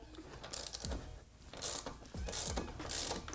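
A ratchet fitted with a 17mm socket clicks in several quick bursts while loosening the rear axle nut on a 2017 or later Kawasaki Z125 motorcycle, up close with pauses between strokes.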